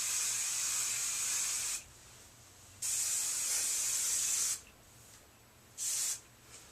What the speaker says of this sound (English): you're going to just spray like you would hairspray